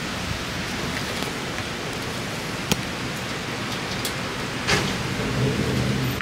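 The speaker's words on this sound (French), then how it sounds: "il faisait bon et il s'est mis à pleuvoir d'un coup" Sudden heavy rain in Toronto, a dense steady downpour hissing on surfaces, loud and close, with a couple of sharp knocks and a swell of louder rain near the end.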